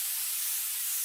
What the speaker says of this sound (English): I am going to spray my cookie sheet here with non-stick cooking spray